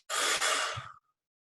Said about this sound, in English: I'll exhale through my mouth, but I'll purse my lips to control the exhale